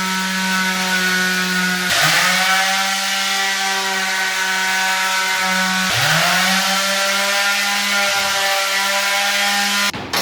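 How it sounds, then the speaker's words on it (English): A power sander runs over a plaster patch on a wall: a loud, steady whining motor hum with two brief dips where the pitch drops and recovers, then cuts off abruptly at the end. "give that a patch area over there, give that a little sand down."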